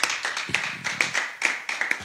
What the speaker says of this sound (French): Est-ce qu'on peut acclamer pour elle?